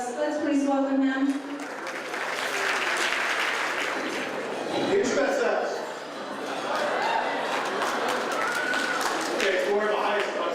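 Audience applause rises to welcome the chairman of the board at an evening banquet, a broad steady clatter of clapping lasting throughout, with crowd noise and voices mixed in.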